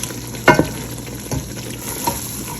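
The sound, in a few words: mutton and spinach being stir-fried in a pot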